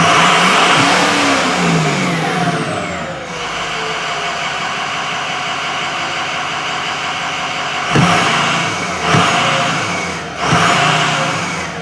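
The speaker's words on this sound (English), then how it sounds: "So let's stab the throttle here. See how it responds." A 6.0 engine revs up hard as the throttle is stabbed, a loud rising roar that falls back to a steady idle, followed by two more short, sharp blips of the throttle.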